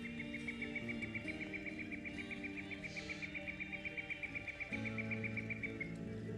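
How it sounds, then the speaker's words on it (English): Loud game-world birdsong from Diablo II Resurrected: a rapid, regular high chirping trill runs steadily over a dense ambient bed of insect-like buzz and low drones, continuous and fairly near. "Birds are loud."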